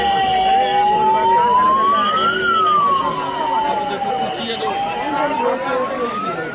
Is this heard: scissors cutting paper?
no